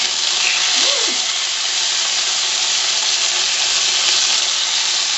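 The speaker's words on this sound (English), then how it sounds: "Look at that sizzle." Loud, continuous sizzling of marinated steak frying in a hot skillet, a dense steady hiss that holds level throughout with no pauses.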